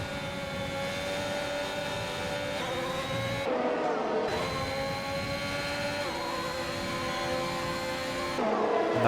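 Formula-style race cars, a Ferrari and a Mercedes, in a racing video game at the Australia round: a steady, high engine whine that holds and shifts pitch, with brief gear-change dips, continuous throughout.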